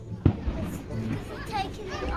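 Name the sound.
fireworks going off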